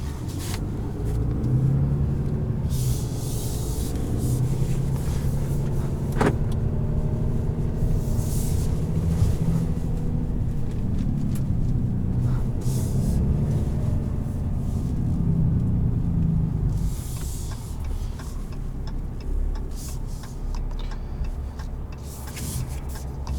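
A 2020 Ram 3500HD Laramie H.O. pickup with a Cummins diesel drives along, its engine and road noise forming a steady low rumble throughout with a few faint clicks and knocks inside the cab.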